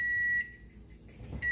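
A kitchen timer set for biscuits baking in a home kitchen beeps with a steady high electronic tone at the start, falls silent, then resumes at the end.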